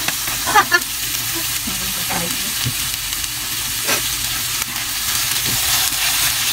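Ground beef with broccoli and other vegetables stir-fries in a pan, a steady hissing sizzle with scattered clanks and scrapes of stirring, close, and a faint voice is briefly audible.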